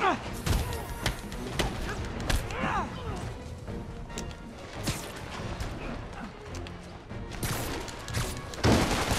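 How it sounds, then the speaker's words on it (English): Scattered gunshots and impact hits in a Spider-Man video game, moderately loud, mixed with thuds and crashes, with someone talking and exclaiming throughout. "Oops, I got people shooting at me."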